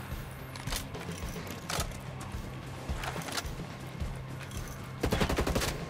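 Bursts of MK48 Compact machine gun fire in the video game Ghost Recon Breakpoint, several short volleys spread across the stretch with a heavier, louder rapid burst near the end over steady background game ambience.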